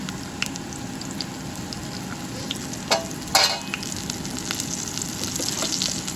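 Onions fry with ginger garlic paste and turmeric in a pan for cucumber tomato curry, giving a steady dense sizzle broken by a few stirring scrapes and clatters midway, close and continuous.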